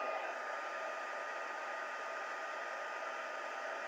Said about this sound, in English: This one should go fast because the heat tool is already nice and hot.